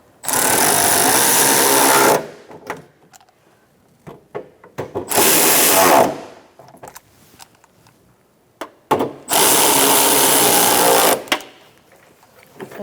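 A power tool tightens bolts on a Buick Encore park assist camera in three loud whirring bursts of about two seconds each, separated by quieter pauses with small clicks and handling noises.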